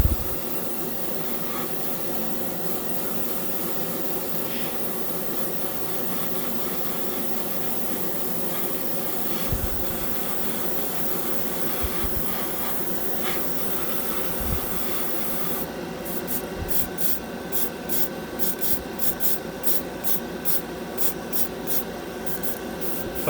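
A light coat of Createx Wicked silver paint sprays steadily from an airbrush onto a scale model, a continuous soft hiss lasting throughout, with a brief pause and then quick rhythmic on-off bursts near the end.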